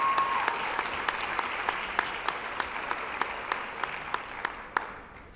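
A science fair crowd applauds its winners, a broad sustained wash of clapping at moderate distance with a few sharper individual claps standing out, continuing evenly to the end.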